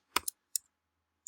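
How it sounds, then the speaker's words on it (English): A few crisp keyboard key clicks close by: a quick pair, a single tap, then one last keystroke after a short pause. Quiet, with no voices. "My keyboard is elevated, and that's why I cannot hit my keys the way I normally would."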